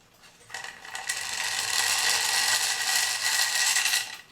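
A chain rattles and clicks as it is pulled through the gear mechanism of a 1978 musical cuckoo clock. The ratcheting whir is close and loud and runs steadily for several seconds before stopping abruptly.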